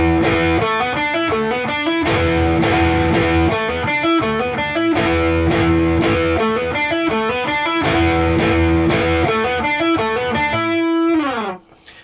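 Intro riff of a rock song on a heavily distorted electric guitar, fast chugging palm-muted eighths with repeated phrases, loud and close, played alone and ending on a bending slide.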